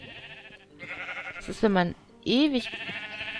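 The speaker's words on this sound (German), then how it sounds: "dann schere ich doch mal die Schafe." Sheep in the video game Minecraft bleating while being sheared, two loud wavering bleats close by over a continuous game background, with someone talking underneath.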